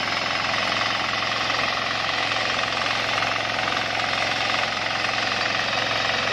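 A Sakura 188 diesel tiller engine runs close and loud while ridging soil, with a steady, hard knocking chug and rattling vibration throughout and no voices.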